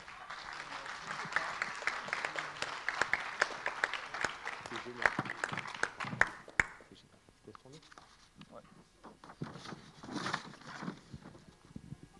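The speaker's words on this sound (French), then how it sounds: "On applaudit Marie-France" An audience at a talk applauds with a dense patter of clapping for several seconds, then the applause breaks off and a speaker's voice carries on alone.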